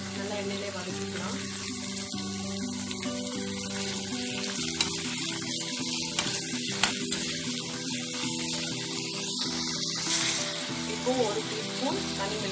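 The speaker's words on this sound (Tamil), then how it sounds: "நல்லா எண்ணெயிலே வதக்கிக்கலாம்." Onions and ripe chopped tomatoes sautéing in oil for chilli vermicelli, a steady broadband sizzle that runs the whole length with faint clinks and a soft voice beneath.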